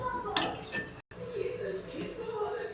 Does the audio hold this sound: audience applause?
no